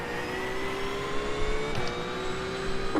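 Race car engine in a Nurburgring racing video game, a steady mid-pitched droning whine with faint harmonics, held fairly quiet and continuous for about three seconds without talking.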